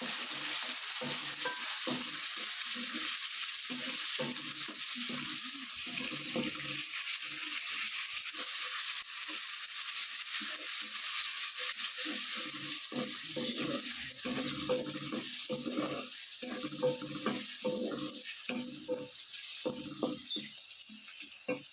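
Continuous frying sizzle of ginger-garlic paste with a spoon repeatedly stirring and scraping it around a pan, close and steady throughout.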